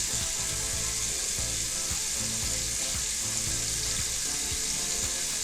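Makeup sponges washed with homemade brush soap in a sink, giving a steady wet sizzling hiss of running water and lather with soft repeated squishing and squeezing pulses underneath.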